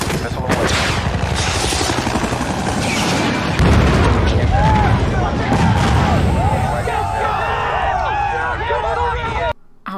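Missile strike in a combat scene from the TV series Generation Kill, heavy booms and blasts rumbling loudly with crackling gunfire-like bursts, fading into scattered debris and chirping noises, under talk.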